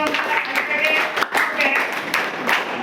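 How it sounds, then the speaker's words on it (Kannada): Eighth-grade students in a classroom give a classmate a round of clapping, a dense, close patter of many hands that keeps going under light room noise. "ಒಂದು ಚಪ್ಪಾಳೆ ಹೊಡೆಯಿರಿ"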